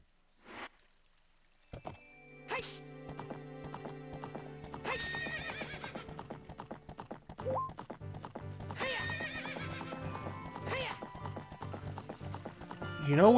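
Horse in The Legend of Zelda: Ocarina of Time, with a few separated hoof clops and a neigh, followed by galloping hoofbeats under layered game music, moderately loud.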